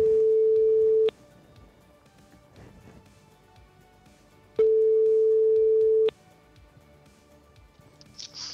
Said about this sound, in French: on va composer le numéro de téléphone de l'entreprise Cenax